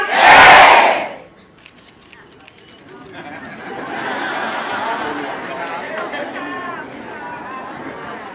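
A crowd at a Pheu Thai party branch-opening rally in Uttaradit gives one loud collective shout, then settles into a sustained murmur of chatter and scattered cheers from many people.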